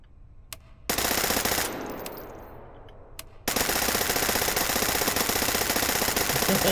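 American 180 .22 submachine gun in the VR game H3VR, a rapid stream of automatic fire in long sustained bursts, with a brief pause between them, loud and close.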